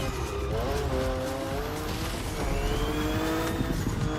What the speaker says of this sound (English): you can just hear the car die as you go up the hill